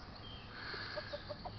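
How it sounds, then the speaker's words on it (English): Chickens cluck in a handful of short, soft calls near the end, heard over a steady, faint background. "If you can hear me from all the chicken talk"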